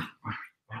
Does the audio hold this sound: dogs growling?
yes